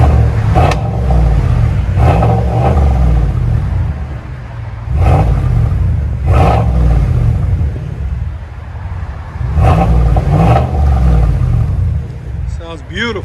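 A GMC Sierra 1500 Denali with a 6.2L V8 and a Super 10 Outlaw race muffler revs repeatedly, its deep exhaust rumble swelling and easing in loud, close pulses.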